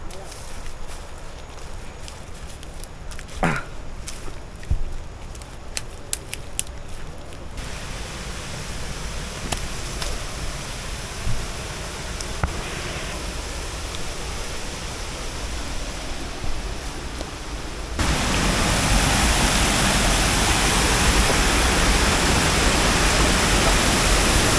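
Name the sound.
Mayang Falls waterfall, Trece Martires, Cavite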